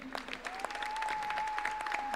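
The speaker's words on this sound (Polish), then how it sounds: "Wielkie brawa dla Karola." An audience claps for the third-place winner at a Polish coffee championship in the Coffee in Good Spirits category, with dense, steady applause and a faint held tone running underneath.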